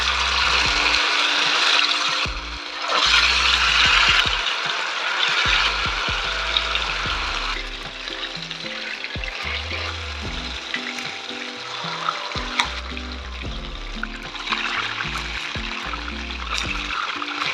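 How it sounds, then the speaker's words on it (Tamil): Chicken pieces deep frying in hot oil in a pan during Indian home cooking, a steady loud sizzle and crackle with bubbling bursts and occasional clatter, running throughout. "இப்போ நம்ம ஒன்று ஒன்றா போட்டு பொரிச்சு எடுத்துடலாம்."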